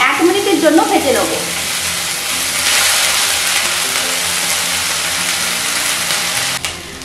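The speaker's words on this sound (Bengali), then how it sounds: "এখন মশলাগুলোকে এক মিনিটের জন্য ভেজে নেব।" Spice paste fries in a hot pan, a loud, dense sizzle that builds after a few seconds and holds steady, close up with faint stirring and no talk.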